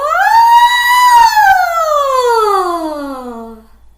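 A singer's voice imitates a siren during a singing lesson, a loud sustained vocal glide that rises, holds and then slides steadily down to a low fade, with nothing else heard.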